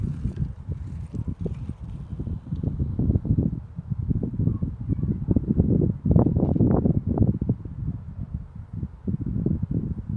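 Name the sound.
wind blowing outdoors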